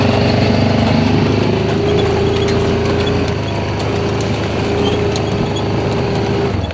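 Honda Pioneer 700-4 side-by-side running on a farm ride toward a lake, with a loud, steady engine drone and a mechanical hum that continue without a break throughout.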